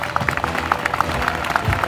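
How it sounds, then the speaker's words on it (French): An audience claps at an evening public event in Fruges, France, in a brief stretch of scattered, moderately quiet applause with a faint crowd murmur beneath. "je voudrais qu'on leur fasse un tonnerre d'applaudissements avant de commencer"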